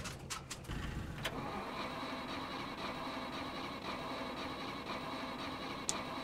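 Vehicle engine in the survival game Scum cranking and catching with a burst at the start, then running as a steady mid-pitched hum with faint clicks, loud and alone.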